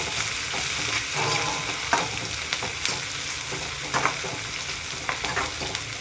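Green chillies sizzle and crackle in hot oil for okra bhaji, a steady close frying hiss with small pops and occasional stirring clicks throughout.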